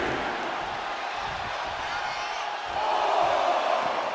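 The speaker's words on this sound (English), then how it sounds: "The sound of this crowd is deafening, and he's asking for more" Arena crowd noise from a wrestling match in the WWE 2K24 video game, a steady broad roar that swells louder near the end with a faint voice over it.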